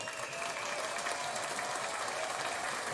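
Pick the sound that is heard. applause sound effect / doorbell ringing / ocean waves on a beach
applause sound effect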